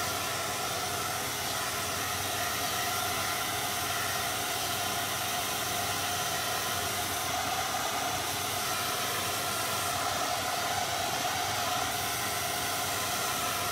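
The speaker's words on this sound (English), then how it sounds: "Let me hit this with a blow dryer." A hair dryer blows continuously on wet paint on yard art, a steady loud rushing hiss with a faint motor whine, unbroken throughout.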